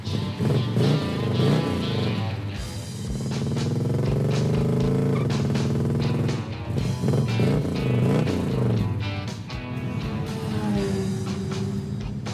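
An old GT car drives stuck without third gear, its engine loud and close, revving up and down in long rising and falling sweeps with some rattling clatter, and faint voices underneath.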